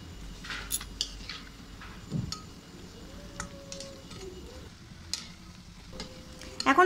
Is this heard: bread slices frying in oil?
yes